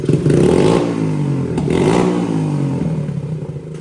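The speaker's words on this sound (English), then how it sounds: "Sure runs better with a clear idle jet." A custom Z80R motorcycle engine with a cleaned idle jet runs steadily at a low, rumbling idle, close up, with a slight rise in revs near the start and mechanical clatter.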